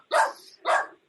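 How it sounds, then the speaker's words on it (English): A neighbor's dog across the street gives two clear barks, a sharp pair spaced about half a second apart, fairly distant and alone against silence. "You hear that dog in the background?"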